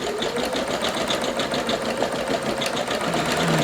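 A Singer Legacy SE-300 sewing machine stitches an embroidery design, giving a steady, fast mechanical whir with rapid regular needle ticks that run close and loud throughout, with no talking.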